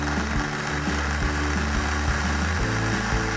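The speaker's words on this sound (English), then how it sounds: "put them into my food processor to make them nice and shredded" A home food processor grates peeled carrots finely for a carrot cake, giving a loud, steady motorized whir with a rattling, churning texture that runs continuously and alone for a few seconds.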